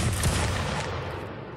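A volley of rifle fire from a line of soldiers in a war game crashes out as one loud, dense burst and then fades off over under two seconds.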